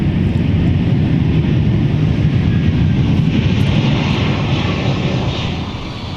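A Delta airliner arriving from Amsterdam at MSP airport roars loudly and steadily as it lands, a broad continuous engine rumble that eases slightly toward the end.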